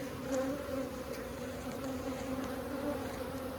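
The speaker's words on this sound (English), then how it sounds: "I got a bee in here stinging me" Honey bees humming at an open hive in a bee yard during an inspection, a continuous low buzz with steady tone, faint and close, with no talk.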